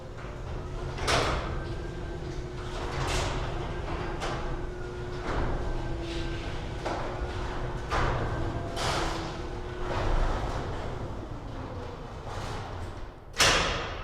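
A garage door opener lowers a garage door with a steady motor hum and intermittent clunks and thuds as panels roll down, ending in a soft close and a sharp final bump near the end.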